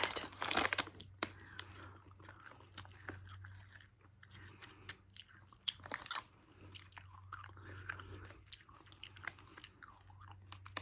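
Gum is chewed close to the mic in soft, wet, irregular smacks and crinkly clicks, with quiet pauses between bursts.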